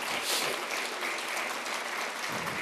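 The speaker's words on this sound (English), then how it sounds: "Can we have a warm round of applause" An audience at an event with the U.S. Secretary of Commerce breaks into dense, steady applause, a continuous wash of many hands clapping without pause.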